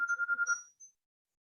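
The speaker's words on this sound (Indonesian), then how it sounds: "ada telepon." A phone ringtone chirps in a quick series of about six electronic pulses, then a short final beep, during an online church mission webinar, clear and alone against silence.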